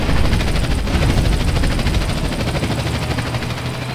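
A helicopter in GTA San Andreas drones with a loud, steady rotor chop and a dense engine roar, staying close and constant throughout with no talk.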